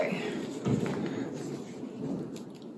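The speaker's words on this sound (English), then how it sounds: "I think there's a bit of a thunderstorm happening" A thunderstorm outside rolls on in a low, continuous rumble with a swelling peak early on, moderately distant and fairly quiet throughout.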